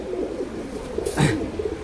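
A pair of young adult Gola pigeons cooing, a low soft coo repeating close by with a brief flutter of wings in the middle.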